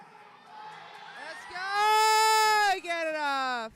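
At a 2020 Raw Strength Open powerlifting meet, a loud, drawn-out cheering whoop rises above low crowd noise. It holds for about a second, breaks briefly, then carries on and fades away.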